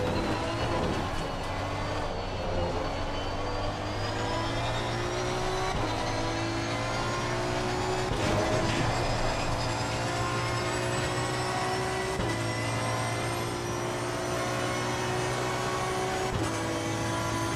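Ferrari racing car in a sim racing game approaching fast amid a pack of cars, steady loud engine drone with shifting pitch, gear changes and rising revs as it closes in within the slipstream.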